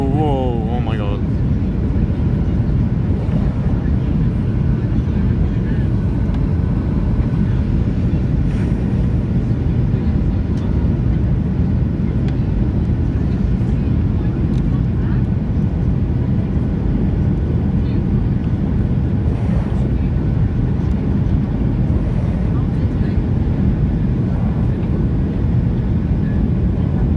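A Ryanair Boeing 737-8AS roars with engine reverse thrust during landing, a loud, steady, rumbling blast heard from inside the cabin that holds at full strength for the whole stretch.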